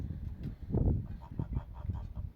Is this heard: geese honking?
yes